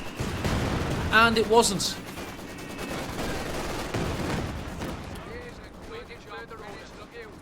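A Katyusha rocket salvo in a World War II strategy game hits Wehrmacht support weapons with a rumbling burst of rapid explosions and gunfire, strongest near the start and fading, under steady commentary.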